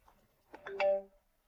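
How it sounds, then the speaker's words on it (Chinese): A phone rings in a car on a rainy night: a single short, bright electronic chime that swells and fades within about a second, heard alone against quiet. "一阵急促的铃声响起"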